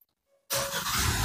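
A car engine starts abruptly after near silence and settles into a loud, steady, close running roar.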